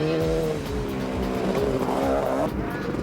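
A sidecar motocross outfit carrying two riders on a motocross track roars close by, its engine revving hard and shifting pitch continuously across the whole stretch.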